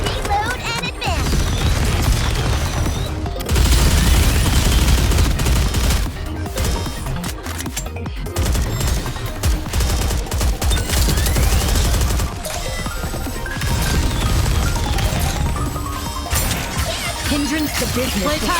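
Sustained automatic gunfire in the NIKKE shooter game, loud and dense, with rapid volleys, crashes and booms running almost continuously and only brief pauses.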